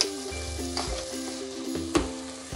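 Onions and cashews sauté in a pan for paneer butter masala, a close, steady sizzle with stirring scrapes and a few sharper clicks of a spoon against the pan.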